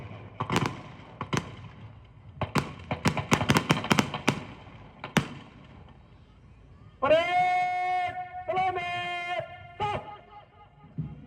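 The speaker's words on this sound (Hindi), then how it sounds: "भारतीय राष्ट्रीय तिरंगे की शान में तीसरा और अंतिम क्रम इस समय हर्ष फायर की कार्रवाई का मैदान के ऊपर चलता हुआ।" At a Republic Day parade ground, soldiers' rifles crack in a feu de joie, sharp shots rippling in rapid succession and echoing outdoors, followed by loud sustained bugle or brass notes.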